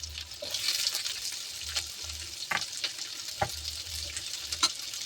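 Onion is stir-fried in a pan, making a constant close sizzle broken by several sharp scrapes and knocks of a spatula turning it, with no talking.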